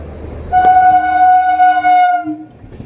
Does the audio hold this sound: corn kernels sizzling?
no